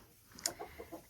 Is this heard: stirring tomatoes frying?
no